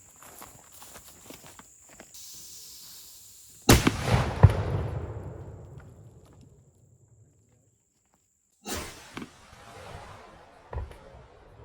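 A large pointy air rifle pellet strikes ballistic gel, giving a sharp loud crack and a burst that decays over about two seconds, then a second impact crack with scattered debris patter afterwards.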